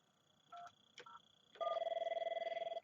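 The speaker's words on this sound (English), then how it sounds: "Now we'll dial 201 again" A 5410/5420 office phone keypad dials extension 201 with a few short touch-tone beeps, then a steady pulsing tone follows, clear and close with no talk.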